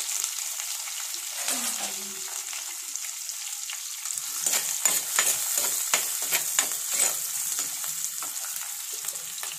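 Coconut pieces sizzle in hot oil with crushed onion, garlic and ginger, a steady frying hiss that swells with crackling bursts in the second half, close and continuous with no talking.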